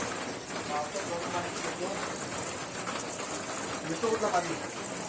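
Heavy monsoon rain pours down steadily, a dense, unbroken hiss of water that stays loud throughout, with faint voices beneath it.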